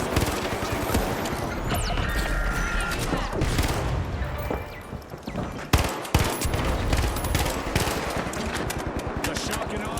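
Continuous turret gunfire in THE FINALS rattles loudly for the full stretch, a dense fusillade of rapid shots with a brief dip midway, overlaid with other game noise and an announcer-style voice talking.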